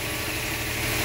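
A freshly overhauled Suzuki Multicab K6A engine idles steadily, giving a smooth, even hum with light vibration and no knocking, close and constant across the short stretch, with no talking.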